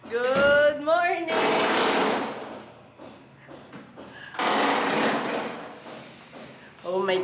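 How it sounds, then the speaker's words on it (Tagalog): Tile removal during demolition work in a neighbouring condo unit comes through as bursts of harsh rattling, hammer-like chipping and grinding, loud but muffled through walls, with someone talking between and over the noise. "Ang daming tinitibag!"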